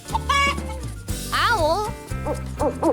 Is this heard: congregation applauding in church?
no